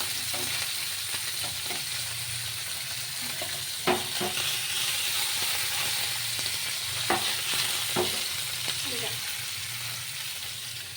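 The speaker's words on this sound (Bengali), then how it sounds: "একটু লাল লাল ভাজা হয়ে গেলে তুলে নিতে হবে।" Soft fish frying in oil until reddish, a steady close sizzle with occasional sharp clinks and scrapes of stirring at irregular intervals.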